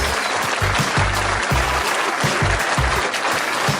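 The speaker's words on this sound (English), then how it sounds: "Give a round of applause for our Real Talk guys." An audience at a Real Talk '9er Talk training camp event claps steadily in a brief burst of applause, a dense patter of many hands close by, with no speech over it.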